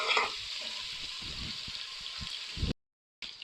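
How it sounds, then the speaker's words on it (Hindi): Mutton sizzles and fries steadily in a karahi for bhindi gosht, a constant crackling hiss with occasional stirring knocks, close and alone, cutting off abruptly near the end. "हमारा यहाँ पे गोश्त अच्छे से फ्राई हो गया है"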